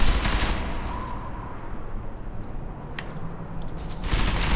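Gunfire in the video game Deus Ex Mankind Divided, a dense crackling burst of rapid shots over a steady rumble, louder at the start and end.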